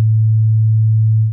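A pure, steady sine tone pitched at the guitar's open A fundamental hums low and loud, unbroken for over a second before cutting off.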